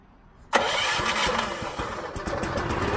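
A pressure washer's gas engine fires up after a short pull, jumping from near silence into a loud, steady roar that keeps running near the listener at about three-quarter throttle.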